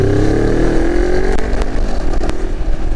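A 2025 Morbidelli T252X motorcycle engine accelerates with a loud, close, rising drone, its pitch climbing steadily and briefly dipping once as a gear changes, with no talk.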